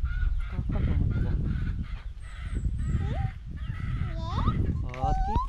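Chickens cluck and squawk nearby while people talk over them.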